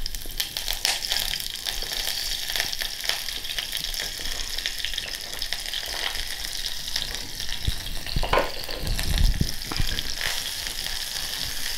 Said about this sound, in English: Don't go too close to the pot, otherwise the mustard seeds will hurt your eyes.